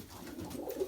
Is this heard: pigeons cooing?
yes